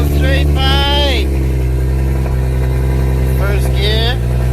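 A straight-piped single-turbo N54 BMW 335i runs close by, a loud, steady, deep idle rumble with rising and falling whistling tones, while someone speaks over it.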